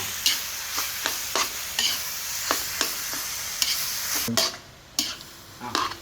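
Minced pork is stir-fried for Mama noodles with holy basil, with a steady sizzle broken by repeated sharp scrapes of a spatula against the pan, close up and with no talking.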